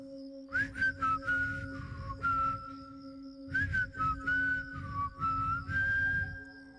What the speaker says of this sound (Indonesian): refleks aku bersiul